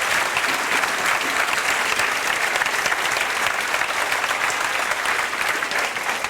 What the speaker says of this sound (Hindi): पीछे तक ताली बजाओ जोरदार।